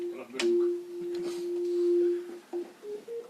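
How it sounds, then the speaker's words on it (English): A Hammond organ sounds one pure sine-wave tone from a single fundamental note. It holds steady for about two seconds, then breaks into short fragments, and faint talk and room noise sit underneath. "Just like to show the sine wave."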